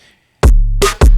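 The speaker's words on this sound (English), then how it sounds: "And we got an 808." Deep, booming 808 bass notes, a short faint blip, then three loud hits with sustained low hum between them.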